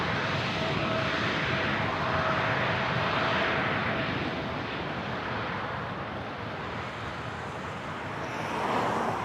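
An Air Canada jet on its takeoff run at Toronto Pearson airport, a loud, steady engine roar that holds throughout and swells slightly near the end, with no voices over it.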